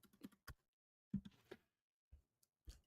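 Keyboard keys tapped in short irregular bursts of clicks, fairly close and quiet, with brief pauses between clusters of keystrokes while someone types a search phrase into a computer.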